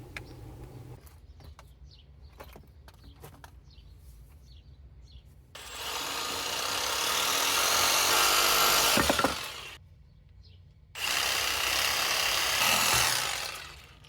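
A power drill spins a reamer inside PVC pipe in two long loud bursts of grinding whine, separated by a short pause, preceded by quiet handling clicks.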